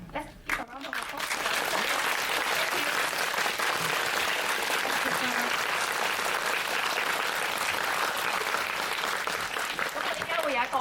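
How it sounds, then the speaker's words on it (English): An audience in a Hong Kong cinema applauds after a film screening, with steady, dense clapping that starts after a brief pause and holds loud and even for about ten seconds. "Let's give a round of applause."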